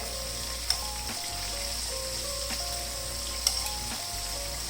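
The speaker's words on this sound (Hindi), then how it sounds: "चिकन को फ्राई होते तकरीबन 3 से 4 मिनट हो गए" Chicken frying in a pan over low heat for a restaurant-style chilli chicken, giving a steady, close sizzle with a few faint clicks and stirring touches and no talking.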